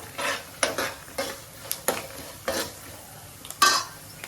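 Mustard seeds and cumin frying with peanuts in a pan for Ugadi pachadi, close irregular stirring scrapes and clinks of a utensil against the pan over a light sizzle.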